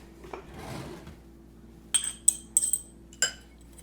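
A whisk clinks against a bowl while eggs and cream are mixed, giving four or five sharp, close metallic taps in quick succession over a quiet room.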